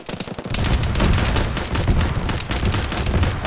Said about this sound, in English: Something's shooting at us.